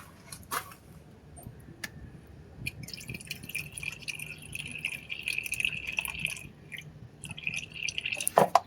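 Liquid poured little by little from a container, with soft intermittent drips and trickles, a sharper pouring stream through the middle, and a few clicks and knocks, close and without speech.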